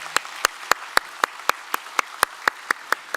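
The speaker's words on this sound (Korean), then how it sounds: "우리 박수로 환영하겠습니다." A single person claps at a steady, even rhythm in a church during Sunday worship, about a dozen sharp, distinct claps in a row in an otherwise quiet room, welcoming new members.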